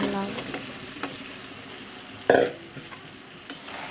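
Bottle gourd drops into a hot pan of spices, a brief burst of sizzle amid light stirring clicks and faint background noise, with a voice briefly audible.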